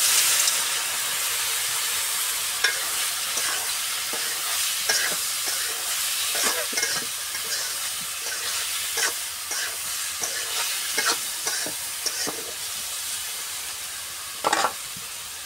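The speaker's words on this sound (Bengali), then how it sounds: "এখন আমি দিয়ে দিব তরকারি।" Ridge gourd curry hits hot oil with fried chili and onion, giving a steady loud sizzle and hiss, broken by scraping stirs of a spoon against the pan.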